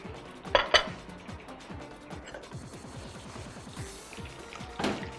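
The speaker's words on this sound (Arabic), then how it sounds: "نجيب بقى نغرف الشوربه" Mushroom and beetroot soup is ladled from a pot: metal ladle clinks and knocks against the pot, with two sharp clanks early on and another near the end, otherwise soft scraping.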